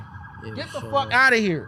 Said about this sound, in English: Yeah, that was probably the ambulance.